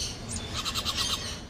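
Birds chirp in the bird department of a pet store, a quick series of bright tweets repeating rapidly over a low indoor murmur.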